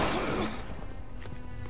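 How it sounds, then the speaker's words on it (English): Sniper shotgun fire in the Resident Evil 6 video game: a loud blast opens, followed by a decaying rumble and a few faint sharp cracks trailing off. "Sniper shotgun for the win!"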